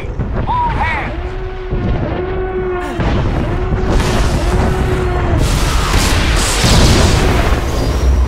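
Incoming fire slams into a ship in Star Wars: The Old Republic, heavy booming explosions and rumbling impacts layered under a repeating alarm siren, loud and close throughout.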